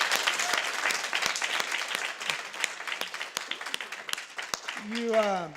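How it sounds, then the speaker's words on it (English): A congregation at a Sunday church service applauds in a long, thick wash of clapping, a voice briefly audible near the end. "I'd ask you to give one more huge round of applause of thanks to this staff and leadership team"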